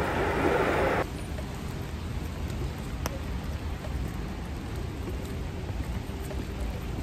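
Steady rain pours down in Versailles, a dense continuous hiss, loudest during the first second, then a softer even patter with occasional sharper drops.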